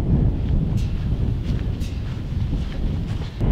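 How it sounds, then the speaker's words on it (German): Wind blows hard across an outdoor lawn in February, a loud, steady rumbling gust buffeting the microphone with no speech over it. "Es ist so windig."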